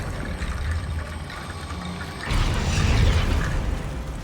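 A Wingardium Leviosa spell is cast in Hogwarts Legacy, an abrupt magical whoosh and rumbling burst that swells loudly after a quieter game ambience, then slowly fades.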